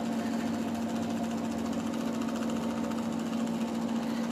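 A homemade brushless DC motor driven by a MOSFET controller on a 9-volt supply runs steadily, giving a constant close-up electric whine with a strong buzzing hum throughout and no speech.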